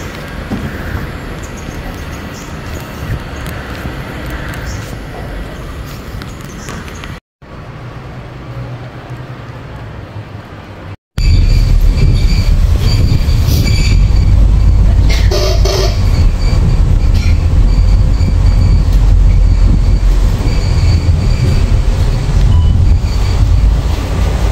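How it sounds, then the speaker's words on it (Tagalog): Singapore MRT train passing on an elevated track, heard as a steady roar that swells into a loud rumbling rush close by, with wind buffeting the microphone. "Ganito yung MRT nila dito."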